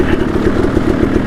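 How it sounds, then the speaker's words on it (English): A 2022 Yamaha YZ450FX or 2014 KTM 300XC dirt bike idles steadily on a wet trail, its low engine rumble clattering in an even, close and loud rhythm with no talk. "the engine's working just fine at an idle."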